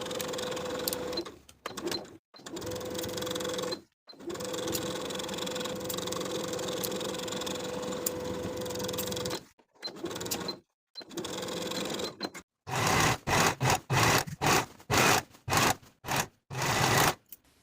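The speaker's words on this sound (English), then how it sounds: "Sew the bottom of the bodice to the top of the skirt from center front to center front with a 1/2 inch seam allowance." A sewing machine stitches a dress bodice to its skirt with a half-inch seam, running steadily in long bursts with short pauses, then switching to rapid stop-start runs near the end.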